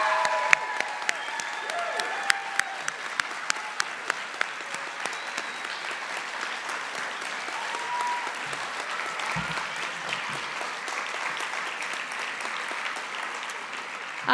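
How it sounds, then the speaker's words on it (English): An audience gives a long round of applause for nursing graduates at a college pinning ceremony, with dense steady clapping and occasional sharper individual claps sustained throughout. "One more big round of applause for 2025 and 2020."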